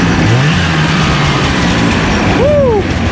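A 1989 Jag 440cc snowmobile engine runs loud and close, rising in pitch through a couple of quick revs over a steady roar.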